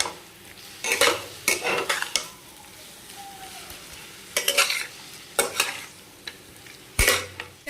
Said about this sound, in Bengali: আলুগুলো দিয়ে ভাজা ভাজা কষিয়ে